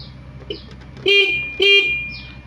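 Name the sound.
motorcycle horn honking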